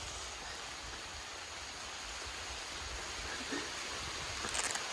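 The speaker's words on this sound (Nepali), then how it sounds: "अब पानी पऱ्यो" Rain begins to fall in a quiet jungle near abandoned farmland, an even, faint hiss of drops that holds steady, with a few slightly brighter patters near the end.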